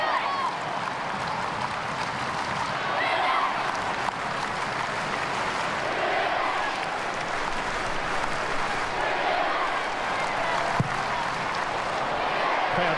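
A football stadium crowd at an A-League match between Wellington Phoenix and Melbourne City rises into a steady, dense roar of cheering and clapping that holds at an even level throughout, with no clear voices standing out.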